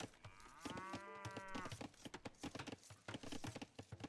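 A cow moos in the strategy video game Age of Empires II, one drawn-out low bellow, faint and mixed with rapid keyboard typing clicks throughout.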